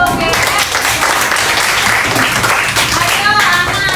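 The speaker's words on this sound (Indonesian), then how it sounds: "Tepuk tangan untuk Goge." Children clapping together in a classroom, a steady dense patter of applause filling the whole moment, with voices mixed in underneath.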